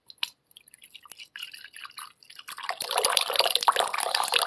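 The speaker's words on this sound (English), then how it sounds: "And I'm agitating the water." Water being agitated while green tea (2009 spring Dehong Ye Sheng from Yunnan) brews, with sparse drips and small splashes at first, then a denser, steady trickle and sloshing at close range.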